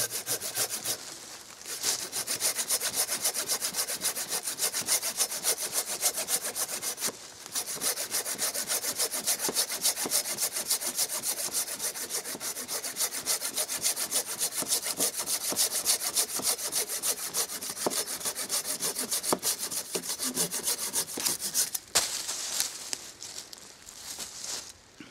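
Silky Gomboy 240 folding saw cutting through wet green wood, rapid rhythmic rasping strokes close up and loud, continuing almost nonstop with a couple of brief pauses.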